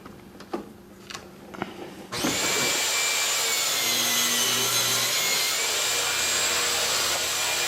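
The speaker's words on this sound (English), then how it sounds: "we take the saw, convert it from rip to crosscut" Power saw set to crosscut, slicing through wood boards for a bookcase; a few light knocks and clatter give way to a loud, steady cutting whine that holds for the rest of the clip.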